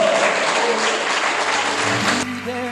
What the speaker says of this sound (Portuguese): Dê uma salva de palmas bem forte para Jesus de Nazaré.